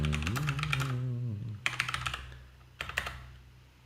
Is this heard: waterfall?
no